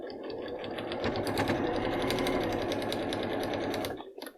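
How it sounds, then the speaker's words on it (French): A sewing machine runs steadily, stitching fabric 1 cm from the edge of a fabric health-record booklet cover, loud and close for about four seconds before stopping. "Et on vient coudre à 1 cm du bord"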